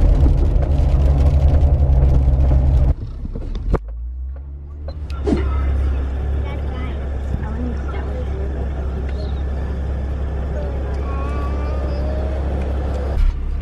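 Jeep driving with a steady low engine and road rumble, after a brief power-window whir near the start, and people talking inside the cabin.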